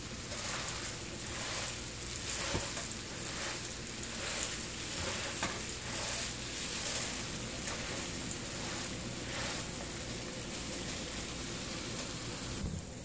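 Moong dal stirred and roasting in ghee over a low flame makes a soft, continuous crackling sizzle with gentle rhythmic scraping, fairly quiet and steady throughout.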